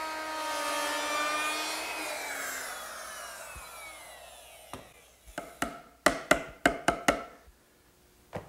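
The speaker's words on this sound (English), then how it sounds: "Now I'm going to put a decorative edge on all four sides of the draw front using a" A router fitted with a 1/4-inch roundover bit shapes the edges of a wooden drawer front, a loud whining spin that winds down over several seconds, followed by a series of sharp knocks and taps.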